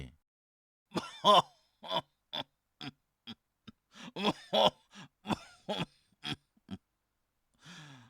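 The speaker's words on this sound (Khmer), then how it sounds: "ពុកនេះពុកក្អកទៀតហើយមែនទេ" An old man coughs and clears his throat in a string of short, harsh hacking bursts, close and spaced unevenly over several seconds, ending in a weak breathy sigh; no speech.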